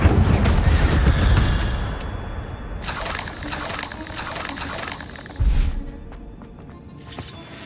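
Spells being cast in the Hogwarts Legacy video game: a dense run of loud magical bursts, crackling blasts and booming impacts, with a sharper thump near the end, filling the whole stretch without a break.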